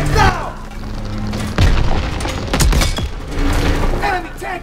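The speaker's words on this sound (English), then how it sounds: "Enemy tank destroyed!" A German Panzer tank is destroyed in the Call of Duty: WWII game, with booming blasts and crackling gunfire bursting in several loud waves over a steady battle din.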